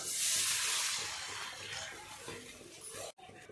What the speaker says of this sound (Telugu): వాటర్ వేసేసిందాం ఇందులోకి